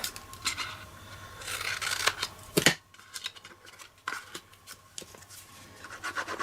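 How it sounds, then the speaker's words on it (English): Scissors snip along the edges of a small paper treat box, a few crisp cuts and soft paper rubbing, one sharper snip near the middle, close and quiet with no talk. "I'm just going to snip a little bit more off the side to neaten the edges"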